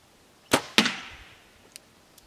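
A broadhead arrow on a 360-grain shaft, fired at about 329 feet per second, strikes a water-filled cooler with two sharp, loud close impacts a fraction of a second apart, then fainter ticks fade out.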